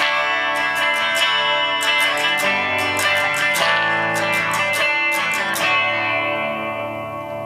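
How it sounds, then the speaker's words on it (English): Electric guitar through an amp app, strummed with a chorus-like shimmer and added reverb, chords ringing steadily with sharp attacks, loud and close, no voices. "And we'll add a little maybe reverb."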